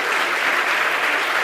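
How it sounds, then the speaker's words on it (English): Brief round of audience applause for game programming teams at a lab's final presentation event, a dense continuous clatter of clapping, loud and even from start to finish. "One more round of applause for both teams."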